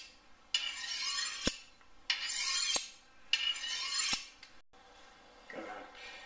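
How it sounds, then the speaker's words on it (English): A kitchen knife drawn full length along a sharpening steel makes three long metallic rasping strokes, each ending in a sharp ring, close and fairly quiet. "run full length of the knife along that steel"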